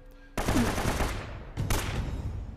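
Gunfire in the video game Uncharted: two bursts of sharp, rapid shots, the first rattling for about a second and the second shorter, over a faint quiet background.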